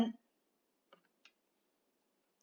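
Single sharp computer mouse clicks on an on-screen button, a few isolated faint ticks separated by near silence in a quiet room.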